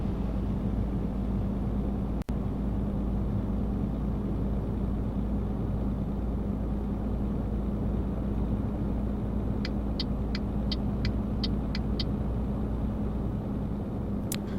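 Steady low drone of a truck engine cruising in Euro Truck Simulator 2, an unchanging rumble held throughout, with a single sharp click early on and a short run of quick ticking taps near the end.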